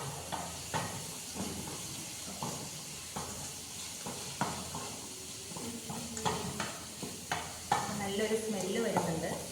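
Vegetables for millet biryani sautéed in a pan, a steady close sizzle and hiss broken by repeated scrapes and clinks of a spoon stirring, growing busier toward the end, with no talk.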